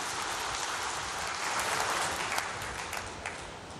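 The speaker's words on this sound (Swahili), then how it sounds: "Na katika hili naombeni tujipigie makofi tena mengi sana" An audience at a Tanzanian gathering marking a Yanga club membership claps, a dense, sustained burst of applause that swells slightly in the middle before easing off.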